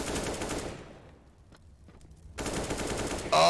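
Gunfire and a grenade in a shooter video game, a loud burst of automatic fire that drops to near silence, then another heavy burst.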